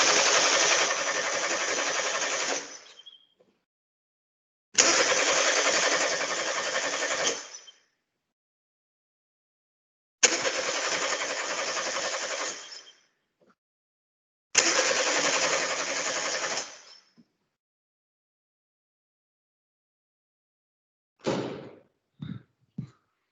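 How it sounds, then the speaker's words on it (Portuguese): Car engine with a missing crankshaft rotation sensor cranking without starting: four loud, steady starter-motor bursts of about three seconds each, separated by silence, followed by a couple of short clunks. "Vou acionar a ignição."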